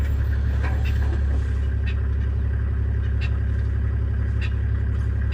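A car engine on a safari drive in Botswana hums steadily and loudly throughout, a constant low rumble with faint higher sounds above it.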